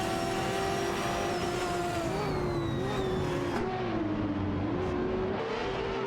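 Ferrari F430 Scuderia race cars in a racing video game scream along the track, high engine whines rising and falling with gear changes, several cars blending in a continuous close roar.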